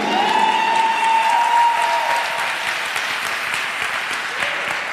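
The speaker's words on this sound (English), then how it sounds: "Clap for me then if I'm helping you." Applause from a church congregation at a sermon, steady dense clapping filling the room for about five seconds, joined near the start by a sustained tone that fades by the midpoint.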